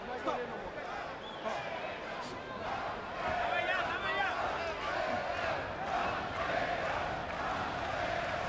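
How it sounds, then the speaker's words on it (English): Boxing crowd at the 2007 Green vs Miranda fight chants Edison Miranda's nickname "Pantera" in a steady, rhythmic arena roar, with a commentator talking over the chanting. "Crowd is chanting Pantera, Pantera."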